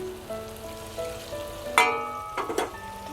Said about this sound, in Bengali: এবার এর মধ্যে আমি অল্প পরিমাণে একটু জল দিয়ে দিচ্ছি।